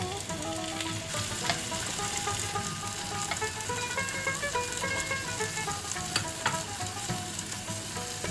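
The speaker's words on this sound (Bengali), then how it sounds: "সর্ষের তেল ঢেলে নিলাম।" Mustard oil sizzles in a hot pan with a steady, close crackling hiss that stays even throughout, while a faint tonal backing of music runs underneath.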